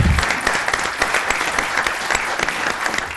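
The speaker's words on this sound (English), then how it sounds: "You can applaud." A room full of people at a college board of trustees meeting breaks into steady, dense applause that holds for about three seconds, close and fairly loud, with no voices over it.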